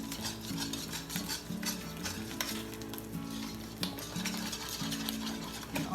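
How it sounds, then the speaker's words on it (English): A whisk scrapes and clatters rhythmically in a pan as parmesan and crumbled feta melt into a macaroni sauce, a busy close texture of metal strokes over a faint bubbling sizzle. "now we're just going to whisk this in and melt all your cheese"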